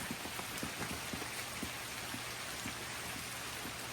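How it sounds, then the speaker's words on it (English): Pouring rain hits surfaces outdoors on a rainy day as a dense, steady hiss of patter. Close droplet taps stand out now and then, with no voices. "it's pouring rain today and tomorrow"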